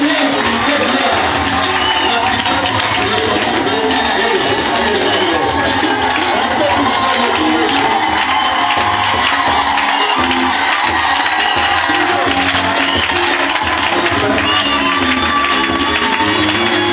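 A large crowd at a church gathering cheers, whoops and shouts continuously and loudly in acclamation, a dense sustained roar with voices throughout.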